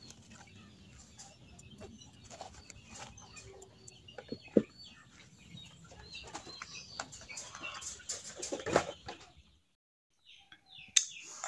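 Free-range chickens being fed rice bran cluck and chirp faintly at a distance, with scattered rustling and small knocks, then the scene falls nearly silent near the end.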